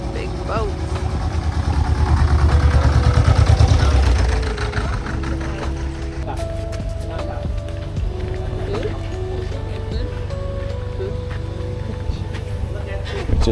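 A loud low boat engine rumble on the Mekong River swells and peaks early, then settles into a steady idling drone, with voices talking faintly over it.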